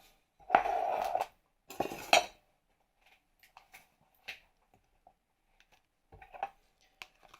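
Egg white and sour cream being mixed in a bowl for a garlic chicken soup: two bursts of clinking and scraping against the bowl, then scattered light taps and clicks with quiet gaps between.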